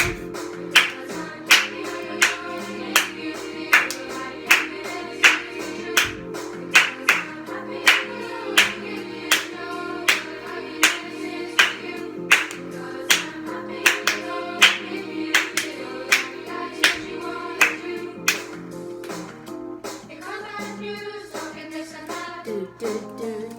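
A school singing assembly claps along to a song, with steady, evenly spaced claps on the beat over the loud music throughout.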